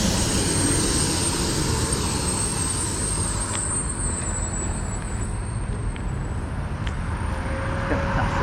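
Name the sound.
garbage truck passing on street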